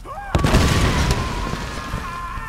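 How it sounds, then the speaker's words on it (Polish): A sudden explosion in Tomb Raider bursts out, followed by a rumbling roar that slowly fades, with a faint high tone lingering. "To był wybuch."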